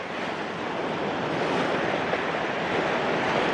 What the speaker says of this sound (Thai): น้ำแรงขึ้นแรงมากเลย